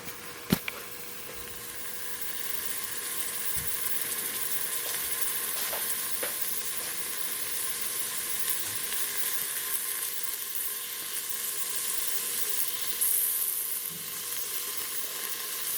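Food browns in a pan for Mexican rice, producing an even, sustained hissing sizzle after one sharp knock at the start, with no voices.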